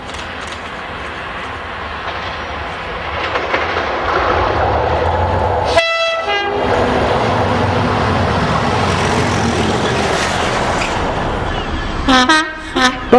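A DRS diesel locomotive hauls a track tamper past Melton, its engine roaring steadily close by as the train rolls on, with sharp horn toots sounding midway and again near the end.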